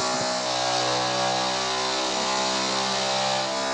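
A dirt bike engine revs steadily up close, a loud continuous buzzing drone with rising and falling pitch and no voices.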